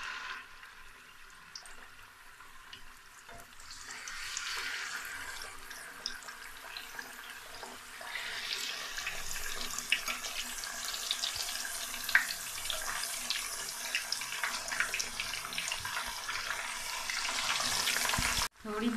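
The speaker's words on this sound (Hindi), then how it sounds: "ऑयल हमारा गर्म हो चुका है और अब एक एक करके अंदर पीसेस डाल देंगे।" Fish pieces frying in hot oil in a kadai, a steady close sizzle that builds and thickens as more pieces go in, continuing without talk.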